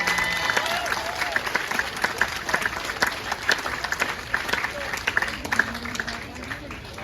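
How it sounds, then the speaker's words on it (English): Applause rises for a grand marshal at a village honors ceremony, a crowd clapping with distinct sharp claps standing out, while a voice and some talk carry through the ovation. "Let's give him a nice round of applause."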